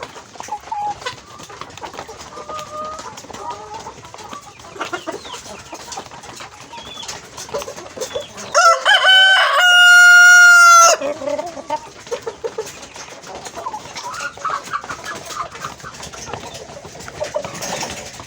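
Free-range village chickens cluck and chatter close by, and a rooster crows loudly partway through, with faint background noise around them.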